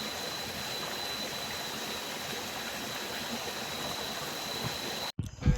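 A river stream on a hiking trail gives a steady, broad rush of flowing water close by that stays constant, then cuts off abruptly near the end amid brief handling noise.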